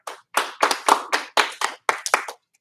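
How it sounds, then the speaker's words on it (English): A class of students clapping for a classmate, several short separate rounds of hand claps, close and sharp with brief gaps between them and no talking. "Give him one clap. Give him 2 claps."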